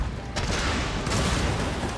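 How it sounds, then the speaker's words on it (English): Grenades explode in the video game Total War: Shogun 2 amid dense battle noise, a continuous loud roar of blasts and gunfire with a sharper burst near the start. "So here goes the grenades."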